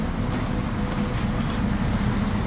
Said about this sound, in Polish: jakaś specjalna lokomotywa